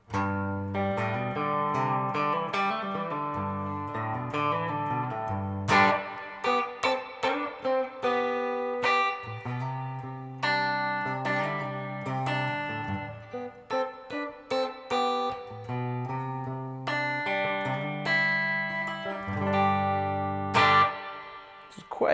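Clean electric guitar through a Carvin V3M amp with reverb turned up full, strummed chords and picked notes blooming into long, spacious tails.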